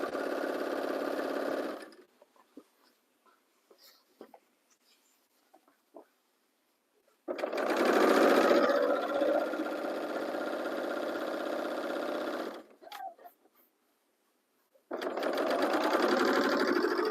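A sewing machine runs through the side seam of a playsuit in three loud, steady whirring bursts of several seconds each, with near-silent pauses between them.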